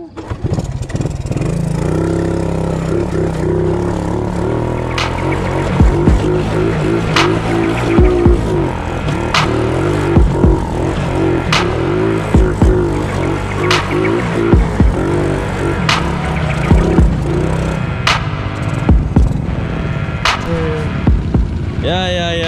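A Suzuki Shogun motorcycle engine idles and revs in repeated bursts on a slippery dirt trail, a loud close mid-pitched drone with sharp throttle blips, while people talk nearby.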